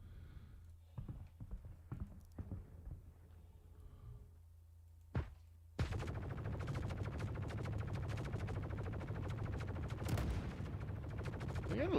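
A drone's size 1 ballistic gun fires in the Star Citizen game, scattered single shots giving way to a long sustained rattling burst that runs to the end.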